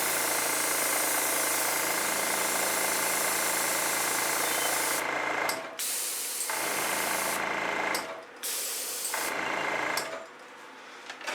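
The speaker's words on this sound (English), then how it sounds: "I'm going to give myself the pleasure of the experimental airbrush." An experimental airbrush sprays onto a primed canvas with a loud, continuous hiss, broken by a few brief pauses and sputtering restarts, close up with no talking.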